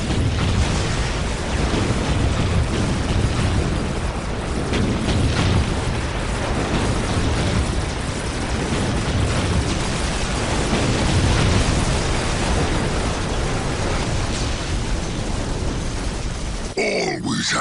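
A bomb explosion in Dawn of War Dark Crusade, heard as a long, loud, rumbling roar of blast and debris that continues throughout before cutting off abruptly near the end.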